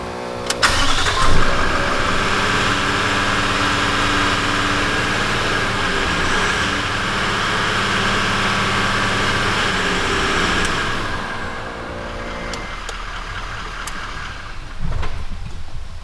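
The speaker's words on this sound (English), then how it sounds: "So I've decided to do this just by driving for a little bit with my lockers on and my wheels off the ground" Toyota Land Cruiser 79 series engine running with lockers engaged and wheels off the ground, a loud steady drone with drivetrain whine that cuts back near the end to a lower idle, with a brief rev-up at the finish.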